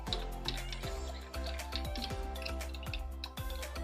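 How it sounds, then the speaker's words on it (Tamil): Spoon stirring sugar into grape juice in a glass, a steady run of light clinks and taps with a soft liquid swirl, close and fairly quiet, with no talk. "சர்க்கரை கரையிற வரைக்கும் நம்ம மிக்ஸ் பண்ணிக்கலாம்."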